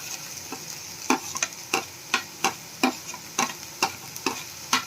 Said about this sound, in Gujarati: 2 મિનિટ આ બધું સાતળવા દેશું. તો ગાજર ડુંગળી 2 મિનિટ સંતરાઈ ગયું છે.